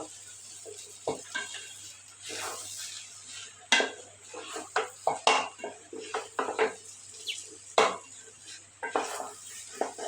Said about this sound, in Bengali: একটু সাধারণভাবে একটু খিচুড়ি রান্না করছি